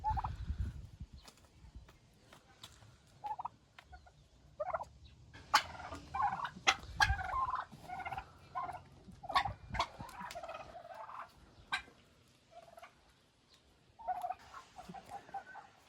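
Turkeys gobbling and chattering in scattered bursts, with some clucking fowl mixed in, moderately close in a quiet yard.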